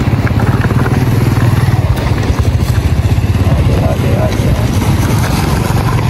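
A motorcycle engine drones steadily and close on a dangerous mountain road to Shimshal Valley, a loud rough throb with fast regular pulsing lasting throughout, with people talking over it.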